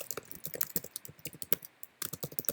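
Someone typing an essay in Google Docs on a computer keyboard: a quick, uneven run of close, crisp key clicks with a brief pause near the middle before the tapping resumes.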